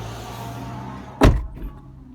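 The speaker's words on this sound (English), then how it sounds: "Let's close the door here," A car door shuts with a single solid thud partway through, followed by a softer knock, over a low steady background hum.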